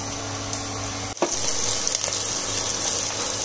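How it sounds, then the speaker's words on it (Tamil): Chopped onions sautéing in a pan for samba rava vegetable upma, a continuous close sizzle with a clatter of stirring partway through. "வெங்காயம் வதங்கிடுச்சு, இப்போ பீன்ஸு"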